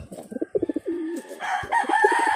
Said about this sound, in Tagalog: Naglilimlim nga pala ito mga kalapatids